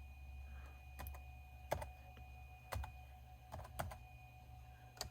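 Sparse, sharp clicks of typing on a computer keyboard, a handful of separate keystrokes spaced irregularly over a steady low hum, quiet and close, with no talking.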